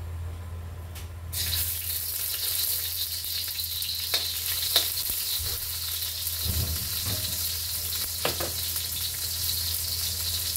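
Garlic dropped into hot cooking oil, a sudden bright sizzle that rises and then holds as a steady crackling hiss, with occasional utensil scrapes and no speech.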